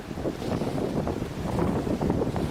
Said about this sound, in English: this wind is just whipping right through the Carhartts